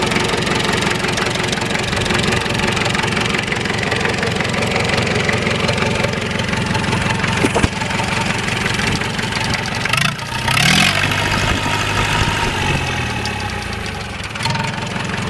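International B414 diesel tractor engine idling after a radiator replacement, a loud, steady knocking chug close by that briefly shifts pitch partway through before settling back to idle.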